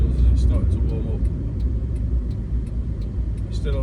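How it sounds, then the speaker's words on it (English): Nissan Micra K10 engine idling on choke, a steady low rumble heard from inside the car, with someone talking over it. "It's still on choke, so it's idling fine at the minute."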